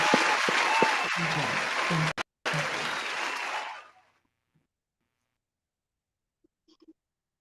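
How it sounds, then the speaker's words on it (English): A studio audience on a podcast set breaks into loud, dense applause and cheering that carries for a few seconds, cuts briefly, then resumes before stopping abruptly into silence, with a couple of faint sounds near the end. "Give yourself a round of applause"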